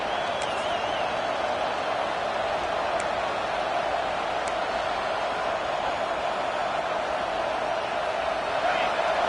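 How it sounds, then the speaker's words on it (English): A football stadium crowd roars at full throat as a game resumes for its second period, a dense, steady wall of cheering that holds unbroken and loud from start to finish. "This crowd, full throat, spreading the eardrums"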